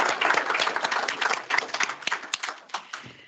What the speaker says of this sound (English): So a big round of applause for each one of you.